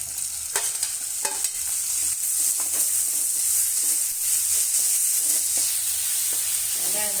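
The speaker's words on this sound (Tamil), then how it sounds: "வெங்காயத்தை நல்லா வதக்கிங்க தக்காளி போட்டு வதக்கிங்க" Onion and tomato sauté in a pan with a steady, loud, bright sizzle, broken by repeated stirring scrapes and clinks of a spoon against the pan.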